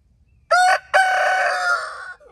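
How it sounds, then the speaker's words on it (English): Rooster crowing nearby, loud and clear: a short first note, a brief gap, then a long drawn-out cock-a-doodle-doo that fades slightly at the end, alone against a quiet background. "Oh, he's about to crow."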